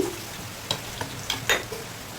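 Bitter gourd and potato pieces frying in oil, with a low steady sizzle and a few sharp spatula scrapes and taps against the pan.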